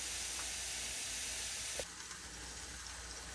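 Sam's Club Angus cheese beef patties cook in a hot pan, giving a steady, quiet sizzling hiss with no voices.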